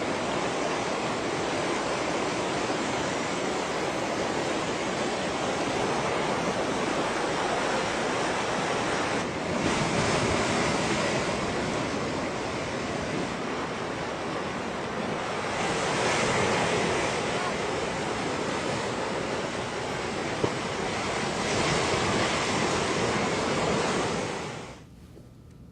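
Brown floodwater rushes past, sweeping away dirt in a loud, steady broadband roar that swells and eases in several surges before dropping off abruptly at the end.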